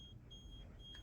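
An Odor Stop HEPA home air purifier beeps in the background, a steady thin electronic tone held almost throughout with a brief gap, faint beneath low room rumble.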